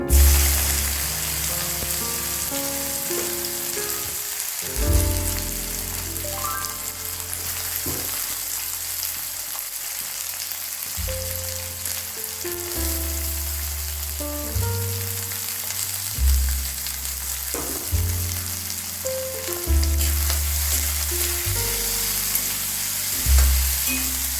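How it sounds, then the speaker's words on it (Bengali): Chopped onion sizzles in a hot pan while bread upma is cooked, a steady loud frying hiss with occasional stirring, heard under background music. "তারপর এখানে আমি একটু পেঁয়াজ দিয়ে দিচ্ছি।"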